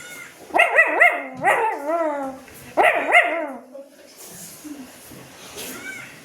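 A person loudly imitates a dog barking, a few close, harsh barks in two quick bursts, followed by quieter background noise.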